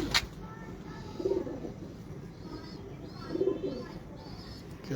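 Pigeons coo in soft, repeated phrases as they return home to their loft, over steady outdoor background noise with a few sharp clatters.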